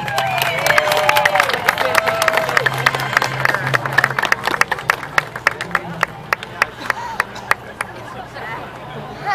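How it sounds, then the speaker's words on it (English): Audience clapping at a dog show, a dense burst of applause with crowd chatter that thins into scattered individual claps near the end, with voices audible underneath. "Big round of applause for one."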